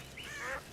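A single short duck quack in The Witcher 2, a nasal, slightly drawn-out call heard fairly close, with no one talking over it.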